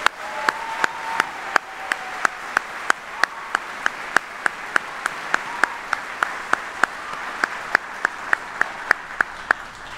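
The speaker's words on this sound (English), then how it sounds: "So please join me in a round of applause for all these soldiers." An audience applauds soldiers at an Army retirement ceremony on a military base; a broad, continuous clapping crowd sound is punctuated by a steady series of sharp, evenly spaced loud claps close by, lasting the whole stretch.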